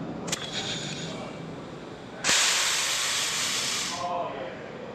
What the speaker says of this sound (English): If I hit the line, the actuator is sprung closed.